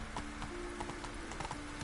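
Hooves of the horse Roach clip-clop in a quick, even trotting rhythm in the Witcher 3 video game, close and clear, with faint background game sounds.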